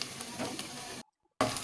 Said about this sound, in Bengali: পেঁয়াজ, মরিচ এবং টমেটো ভালোভাবে কষিয়ে নেবেন